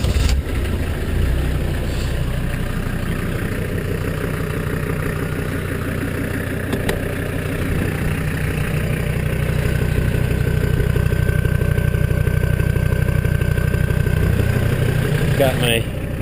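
Jeep CJ5 fitted with an OM617 turbo diesel engine idling at close range, a steady low rumbling clatter that runs throughout while a voice talks over it.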